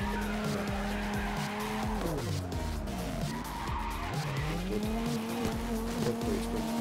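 Game car in CarX Drift Racing 2 drifting sideways, with a loud continuous engine drone and tire squeal that dips and rises as the car swings through slides, steady and close throughout.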